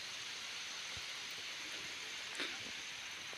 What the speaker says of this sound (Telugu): వర్షం పడుతుంది కదా, చూడండి ఎలా పడుతుంది వర్షం